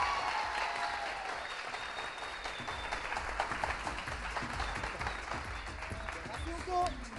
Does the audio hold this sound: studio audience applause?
yes